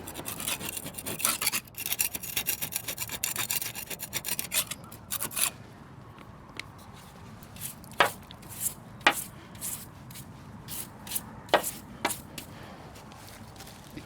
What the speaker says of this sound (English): So it's just a scrape, a wire brush, and then a brush off.